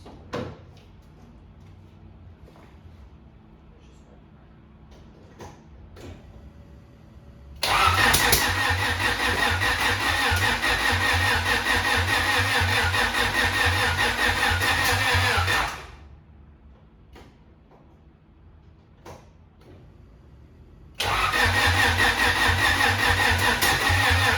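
A Honda's engine is cranked by the starter on a weak battery, two long loud whirring cranking bursts separated by a quiet pause, heard close by without any voices.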